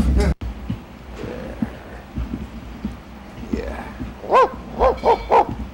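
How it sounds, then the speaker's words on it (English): A dog barks in a series of sharp, loud barks toward the end, after scattered quieter yips and whimpers, with background noise and a brief gap near the start. "well done dog, good dog, yeah, well done."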